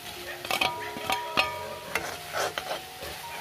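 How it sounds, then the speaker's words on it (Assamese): Star fruit jam with bay leaf and chopped jaggery being stirred in a pan, a spoon scraping in repeated strokes over a soft sizzle, close and moderately loud. "তাৰপিছত এনেকৈ লৰাই থাকিব।"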